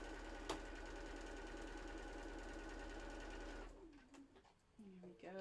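A sewing machine stitches the last seam of a quilt block, a steady close mechanical hum running alone before stopping abruptly, followed by a quiet room with faint voice-like sounds.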